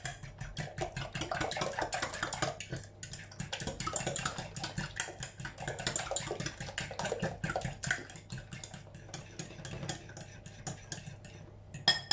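A spatula scrapes and clicks against a dish while stirring leek tart filling, a busy run of small irregular knocks and scrapes at close range.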